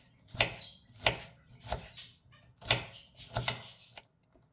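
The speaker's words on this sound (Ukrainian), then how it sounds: "Солодкий перець. Чистимо та теж дрібненько нарізаємо." A knife chops sweet pepper finely on a board: about seven distinct, close, sharp cuts in an uneven rhythm, with quiet gaps between strokes and no voices.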